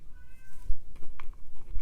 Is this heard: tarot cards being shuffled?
no